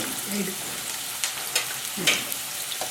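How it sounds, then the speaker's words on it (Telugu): Onion pieces and coconut fry in hot oil for solala biryani, a steady close sizzle with a few sharper spits and stirring clatters, and no voices over it. "మనం ఆయిల్ వేడెక్కాక ఆనియన్ ముక్కలు, మళ్ళీ ఈ కొబ్బరికాయ వేసేసి కొంచెం వేయించాలి"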